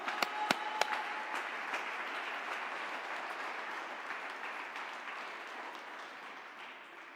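A church congregation applauding during a sermon, starting with a few sharp claps and settling into steady, moderately distant applause that slowly fades.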